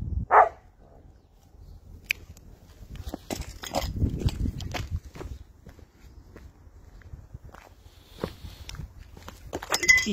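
Dogs move around close by, with a short bark at the start, then scuffling, panting and paw steps on a hard floor, punctuated by scattered clicks and knocks, with no talking.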